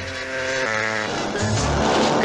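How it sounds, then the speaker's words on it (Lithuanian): A 350 cc racing motorcycle at a 1950s–60s circuit race, its engine note loud and rising in pitch as it accelerates past, with crowd and ambient noise beneath. "Jo motociklas 350 kubinių centimetrų klasės."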